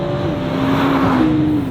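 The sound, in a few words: 2022 Nissan GT-R T-Spec engine accelerating under throttle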